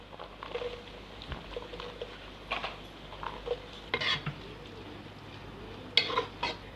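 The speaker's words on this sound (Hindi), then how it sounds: "अब हम इसके अंदर फलियां डाल देंगे।" Green beans go into a pan of frying onions for vegetable biryani, with a light sizzle under repeated close clinks and scrapes of a stirring spoon, and no one talking.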